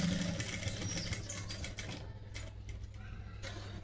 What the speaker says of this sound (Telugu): చిన్నగా అయినా పర్వాలేదులే కానీ ఎడ్జ్ కుట్టు వేసేసుకోండి